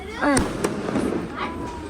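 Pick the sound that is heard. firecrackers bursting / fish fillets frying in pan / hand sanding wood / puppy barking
firecrackers bursting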